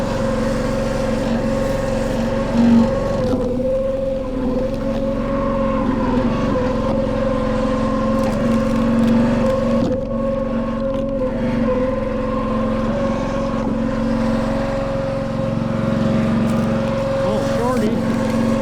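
A Split-Fire 1165V log splitter runs with a steady loud engine drone while splitting knotty wood, and someone talks over the noise.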